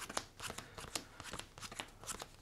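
Magic: The Gathering cards dealt one by one into four piles for mana weaving, a quick irregular series of soft card slaps and flicks, close and quiet with no talking.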